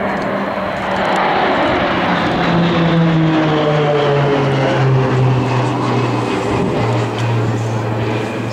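Roulettes aerobatic display aircraft from the Royal Australian Air Force at Point Cook roaring overhead, the loud propeller engine drone sliding down in pitch as the planes pass close by and continuing at a sustained volume.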